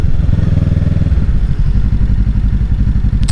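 A 2023 Kawasaki Ninja 650 with an aftermarket exhaust runs loud and close, its engine throbbing in a steady low pulse. The tone shifts slightly partway through as the rhythm changes, and no voices are heard.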